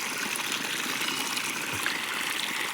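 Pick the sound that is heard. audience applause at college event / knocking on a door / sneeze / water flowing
water flowing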